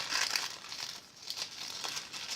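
A paper envelope is handled and crinkled, a soft continuous rustle with a few brighter crackles, close and fairly quiet with no voices.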